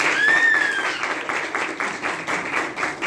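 Applause from an audience at an event for the International Day of Persons with Disabilities, steady dense clapping with a brief whistle-like tone near the start, continuous at moderate loudness throughout.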